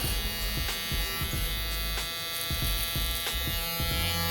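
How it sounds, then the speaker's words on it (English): An electric hair trimmer buzzes close up while lining up the back of a low taper haircut, a loud steady buzz broken by quick rhythmic taps and changes in load as it touches the neckline. "Trimmer, just gently tapping right here in the back."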